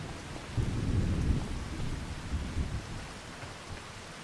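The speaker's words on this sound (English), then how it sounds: "I knew rain was a coming" Rain and rumbling thunder from a storm in the farming video game Farming Simulator 25, a steady broadband wash of rainfall with low thunder swells near the start and middle, heard alone without talk.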